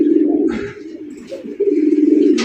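A male pigeon coos close by in a loft, a low rolling throaty call repeated in two or three pulses, with faint rustling behind it.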